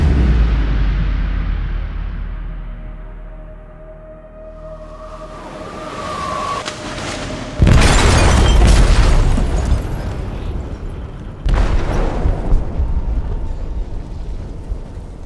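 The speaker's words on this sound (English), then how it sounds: "They detonated an explosive in the hold." A heavy explosion booms deep in a ship's hold in Detroit: Become Human, a loud low rumbling blast followed by a second hard impact and lingering roar, with no voices.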